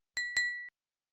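Two quick, bright notification bell dings ring close together and alone, the second chime trailing off briefly.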